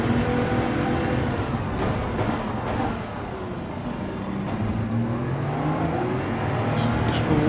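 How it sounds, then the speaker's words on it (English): A Bugatti accelerating during a race at Spa in a racing game: a continuous engine note rising in pitch, steady and fairly loud, with brief clicks and tyre or shift noises over it. "Crazy acceleration of that Bugatti in that gear"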